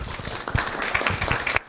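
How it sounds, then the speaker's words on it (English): Audience applause at a Langley Township by-election council candidates forum, following a candidate's introduction: a short burst of mixed claps with some voices, cutting off abruptly at the end. "We'll do applause for the introduction"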